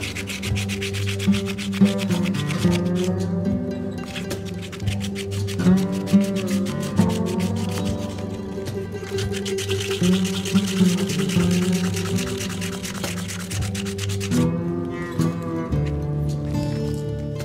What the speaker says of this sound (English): Smooth it all out with a coarse sandpaper.